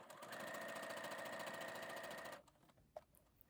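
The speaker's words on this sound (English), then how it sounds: "I've got my machine stitch length back to" A sewing machine stitches broadcloth at a 2.5 stitch length, a steady close rapid whirring run for about two seconds, then stops, leaving quiet room tone and a small clunk.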